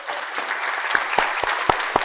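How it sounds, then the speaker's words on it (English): Town hall audience applauds as the city's mayor is introduced, a wash of crowd clapping with a few loud, close individual claps punching through near the end. "Please, round of applause for the Mayor of Atlanta, Andre Dickens."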